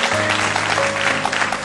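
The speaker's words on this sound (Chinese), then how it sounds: "来，掌声欢迎。" An audience claps in welcome for guests arriving at a studio talk show, a dense burst of steady applause filling the short moment.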